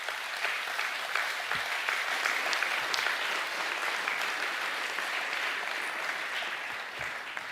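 Audience applause fills a school co-curricular awards ceremony: sustained, dense clapping from many hands, steady and fairly loud for the whole stretch with no voices over it.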